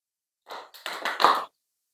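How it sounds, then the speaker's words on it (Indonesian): A few scattered groups of hand claps in a classroom, a short burst, a pause, then a louder ragged cluster from several people, fairly quiet overall. "Tepuk 2 kali."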